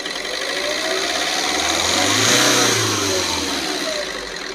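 A Tata Nexon engine with a faulty, seizing piston revs up and falls back, a loud, close drone swelling and easing with a rapid ticking knock running underneath.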